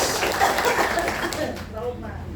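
A crowd at an Islamic religious lecture in Jatinangor, Sumedang claps in a steady wash of noise that eases off after about a second and a half, leaving lighter murmuring.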